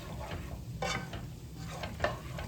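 Cooked pasta being stirred into sauce in a cast iron pan, with soft wet scraping strokes and a faint sizzle beneath, quiet and close.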